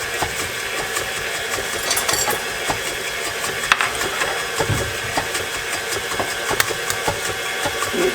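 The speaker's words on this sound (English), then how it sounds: "I'm going to go ahead and whiz that to try to cool that butter down a little bit before I put my eggs in." A kitchen appliance whizzes melted butter for brownies, making a steady, loud mechanical whir with small rattles and clicks running throughout.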